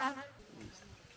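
Bees buzz at an apiary, a faint wavering drone close by, briefly overlapped at the start by a short voiced sound before settling into a soft hum.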